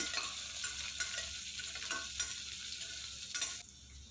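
Dry red chillies, green chillies and tempering spices frying in a pan, a steady hissing sizzle under brief scraping strokes of a spoon stirring them, fairly quiet and close, with no talking.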